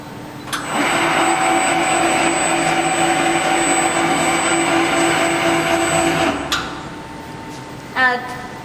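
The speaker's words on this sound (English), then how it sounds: "然后我们就是要把这个机头放下来" A high-precision silkscreen printing machine lowers its print head with a loud, steady pneumatic hiss that runs for about six seconds and stops abruptly, followed by a short mechanical clack.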